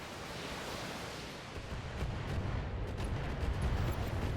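Mech weapons fire in the BattleTech video game, a dense, rumbling roar of artillery-like blasts that swells and grows heavier partway through.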